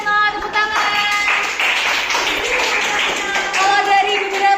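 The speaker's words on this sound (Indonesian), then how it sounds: "terima kasih untuk Retno, tepuk tangan." A class of students claps in a classroom, a brief burst of hand clapping in the middle under overlapping voices.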